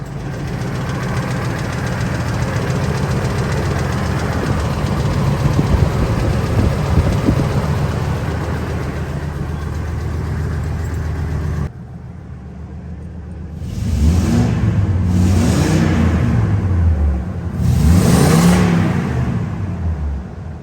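A Ford F250 V10 runs just after new headers and injectors are installed, first a loud, rough, knocking rumble, then a pause and several revving surges.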